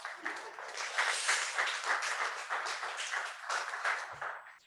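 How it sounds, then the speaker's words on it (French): Audience applause at a data visualization hackathon party, a sustained, dense wave of clapping from a crowd that fades near the end. "Tonnerre d'applaudissements."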